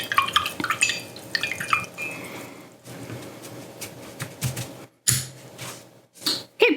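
A paintbrush rinsed in a water cup while painting a pink ghost ornament, with clinking, tapping and swishing of bristles against the container in irregular close bursts, no voice over it.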